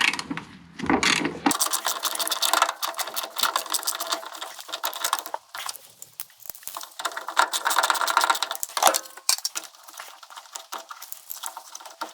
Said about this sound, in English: So I'm going to use a 10mm socket with a wrench.